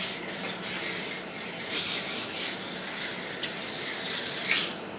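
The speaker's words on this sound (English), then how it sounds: "So now we go into our next grit of diamond stone." Diamond stone rasps steadily along a ski's side edge in close, continuous back-and-forth strokes, a gritty scraping with no voices over it.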